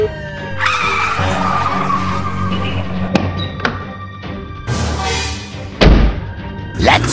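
A toy-like game-style car chase skids with squealing tires and several sharp thuds and slams, the screeches rising and cutting off in bursts over a busy, loud mix.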